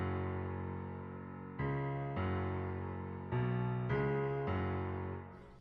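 Sampled grand piano in a Kontakt instrument, dark Spanish guitar style, playing the guitar part's bass notes: five sustained low chords struck one after another, each ringing and slowly fading, moderately quiet with no voices.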